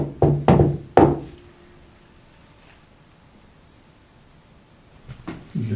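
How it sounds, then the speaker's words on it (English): Knocks on thin tin metal inside an old settler's cabin: a quick cluster of three loud, resonant raps with a brief ringing tail, then near silence before faint rustling returns at the end. "Looks like a knock on metal."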